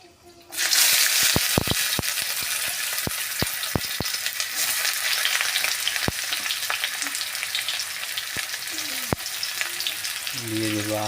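Chopped onions hit hot mustard oil that already holds bay leaf, cumin and whole dried chillies, bursting into a loud, close sizzle that continues steadily, with occasional sharp clicks of a utensil against the pan.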